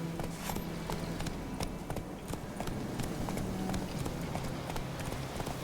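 Horse hooves clip-clop in a rapid, continuous galloping rhythm in The Witcher 3 open-world game, steady and moderately loud throughout with no talk over it.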